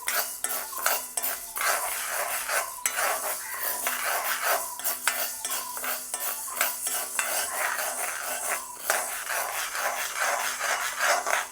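Lentils with their skins on are dry-roasted in a pan for laddu, stirred continuously with a metal utensil that scrapes and rattles close by in a busy, uneven rhythm. No voice is heard.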